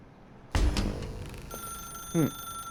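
A telephone rings inside The Stanley Parable video game, a sharp electronic bell tone cutting in over a low hum, with a second brief chirp shortly after.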